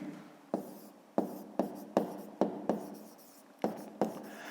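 Handwriting during a fifth-grade maths exercise: a pen or pencil scratches on paper in a series of about nine sharp strokes with quiet gaps between them, close by and alone.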